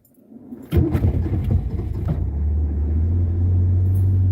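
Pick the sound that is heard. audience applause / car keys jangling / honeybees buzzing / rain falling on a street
car keys jangling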